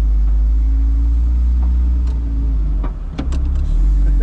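Car fitted with hand controls for a quadriplegic driver, shifted into drive: a steady low engine idle rumble with a few soft mechanical clicks and a brief clunk near the end, heard up close inside the cabin.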